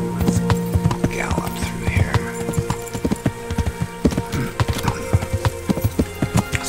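Horse hooves clop in a quick, steady rhythm in Kingdom Come: Deliverance, loud and close over a low droning game soundtrack, with a brief whinny-like cry.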